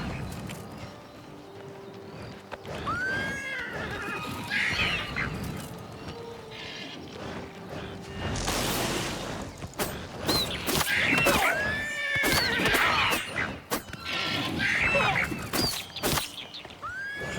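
A horse in Oblivion Remastered whinnies several times in shrill, wavering calls amid clattering hooves and combat thuds, fairly close and loud.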